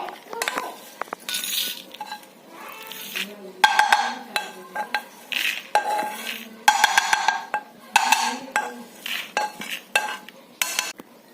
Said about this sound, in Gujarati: તો એને આપણે એક બાઉલમાં શિફ્ટ કરી દઈશું એને ઠંડુ થવા માટે.